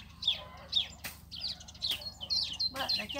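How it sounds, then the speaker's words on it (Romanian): Birds sing and chirp outdoors in repeated bright, short calls, with a few sharp clicks and a voice talking quietly underneath. "ce frumos cântă păsările"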